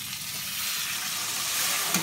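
Half a glass of water poured into fried masala in a pan while cooking bitter gourd curry, raising a loud steady hiss and crackling sizzle that builds slightly over two seconds.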